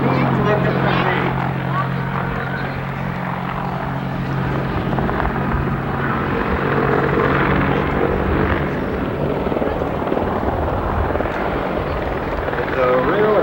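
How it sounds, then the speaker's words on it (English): A military helicopter able to fly backwards at over 100 mph, passing at a 1992 airshow at Westover, with a steady loud rotor and engine drone throughout, mixed with crowd noise and an announcer talking over it. "It's a real impressive helicopter, and it carries a tremendous punch."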